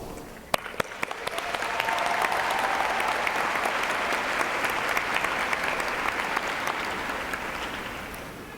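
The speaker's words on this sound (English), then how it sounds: "please join me in showing your appreciation for these very special people in your lives with a very generous round of applause" Sustained, generous applause from a convocation audience fills the hall, rising quickly after a few sharp early claps and holding steady and dense throughout.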